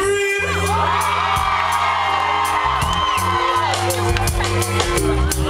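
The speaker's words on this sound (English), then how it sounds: "let me hear you scream" A concert crowd of women screams and whoops steadily at a live roots reggae show, the cheering running under continuous music with a sustained bass line throughout.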